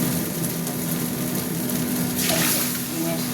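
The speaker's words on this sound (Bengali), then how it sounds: "আলু জল ঢেলে দিলাম।" Potato-boiling water poured into a pan of egg curry being cooked, a steady splashing pour that swells briefly near the end, close by.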